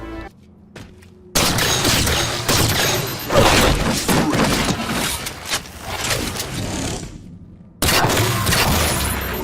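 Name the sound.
Promethean Light Rifle firing in Halo 4, a video game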